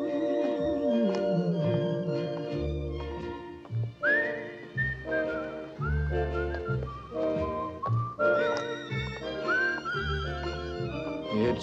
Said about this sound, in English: It's a whistling tune for walking in the night.